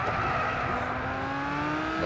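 Lamborghini racing in Gran Turismo 6, its engine holding a steady sustained drone with a rising tonal whine and faint tire squeal, loud and continuous throughout.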